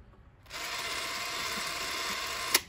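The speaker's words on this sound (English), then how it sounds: "I wound the camera." Winding a Keystone A-7 16mm film camera produces a steady, close ratcheting whir that runs unbroken for about two seconds, then ends with a sharp click.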